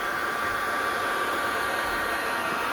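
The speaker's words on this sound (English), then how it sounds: "You can use your wife's hair dryer." A hair dryer blows close by, a loud, constant airy whoosh with a steady hum and no pauses or voices.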